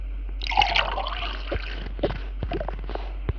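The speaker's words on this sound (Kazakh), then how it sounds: "сосын соқ құйып аламын" Juice is poured into a glass in the Toca Boca video game, a short bright liquid-filling gurgle followed by a few soft drips and small clicks, quiet and close.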